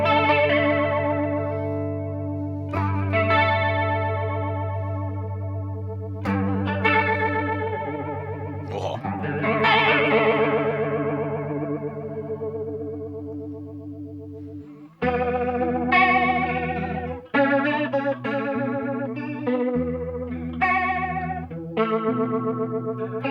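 An electric guitar runs through a PRS Wind Through the Trees pedal with the blend set fully wet, giving sustained chords and picked notes a deep, watery, swirling warble. The playing is close and steady, with no talking.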